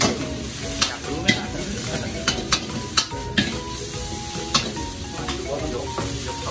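Food stir-fries in two woks at once at a Thai made-to-order street food stall abroad, with a constant loud sizzle and repeated sharp metal clanks of spatulas against the pans at an irregular rhythm.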